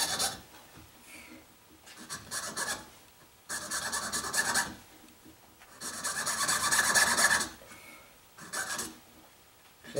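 Mother-of-pearl is cut by hand for a guitar inlay, giving short, dry rasping strokes in uneven bursts separated by brief pauses. The sound is close and fairly quiet, with no talking.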